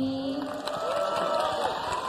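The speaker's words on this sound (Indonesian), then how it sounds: "mari sekali lagi kita berikan tepuk tangan yang paling hangat untuk masa depan" An audience at the JKT48 10th anniversary show applauds and cheers together in a warm burst of clapping and shouts, with a sustained tone and some voices in the mix.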